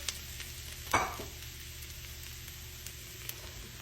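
Mushrooms and onions cooking in butter in a pan give a faint, steady sizzle, with one brief louder hiss as the mushrooms go in.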